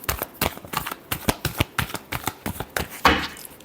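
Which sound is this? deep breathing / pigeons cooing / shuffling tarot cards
shuffling tarot cards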